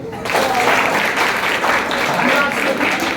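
At a prize distribution for school toppers, a crowd of students bursts into loud, sustained applause, a thick, continuous roar of many clapping hands close by that holds steady for a few seconds.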